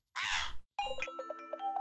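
Crow cawing in Realmcraft, a Minecraft-like video game: a harsh caw bursts out alone, followed after a short pause by a chiming, bell-like game tone with repeated soft notes.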